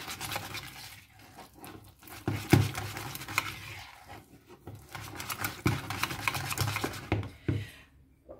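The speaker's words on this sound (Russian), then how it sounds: "Всю эту массу просто перемешиваем венчиком." Cheesecake curd mixture with sugar and eggs being whisked by hand in a bowl, producing steady soft patter and scraping with occasional sharper clinks of the whisk against the bowl, close and alone.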